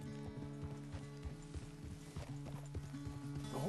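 Horse hooves clip-clopping at a steady walking pace in the Red Dead Redemption 2 video game, clear rhythmic thuds over a low tonal hum, close and even.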